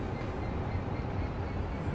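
A simulated train from Train Sim World's Great Western Express rolls along with a continuous low rumble and track noise, steady and unbroken for the whole short stretch.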